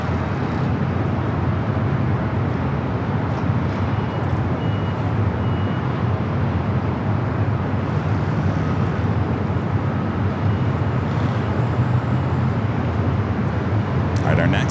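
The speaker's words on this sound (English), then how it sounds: "Southwest, flight 3785, coming up from St. Louis, a 737 MAX 8" A Southwest Boeing 737 MAX 8 arriving at LAX roars as a continuous, heavy jet rumble filling the whole stretch, loud and steady with no clear breaks.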